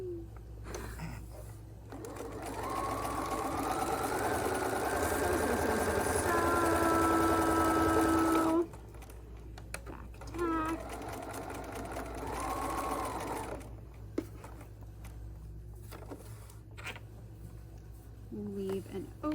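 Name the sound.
sewing machine sewing a blanket seam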